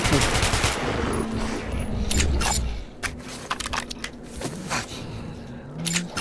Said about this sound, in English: I'm so happy when I get this AK.